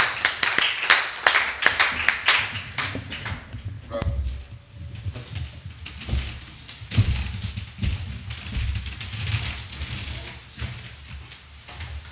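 A church congregation clapping to acclaim the Lord, many hands striking in an uneven, rolling patter that swells and thins across the room, with low thumps and murmurs beneath.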